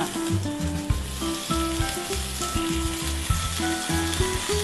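Beef tongue sizzles and fries loudly in a hot pan with a little cooking oil, a dense continuous crackle with occasional louder spits and a low background hum.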